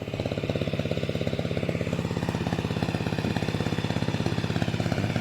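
A water suction pump engine runs steadily beside a fishing pond stocked with koi, gourami and tilapia, its rapid, even chugging loud and close throughout with no pause.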